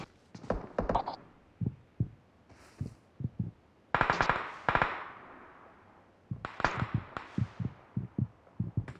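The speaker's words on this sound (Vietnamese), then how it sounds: "Đang bắn nhau đùng đùng mà." Gunfire in the video game PUBG comes in bursts of rapid cracking shots, some close and loud, others thinner and farther off, separated by short lulls.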